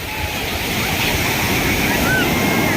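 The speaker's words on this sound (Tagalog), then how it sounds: "yung sounds ng dagat napakaganda" Sea surf at Dingalan washes continuously onto the shore, a steady roar with some wind buffeting the microphone.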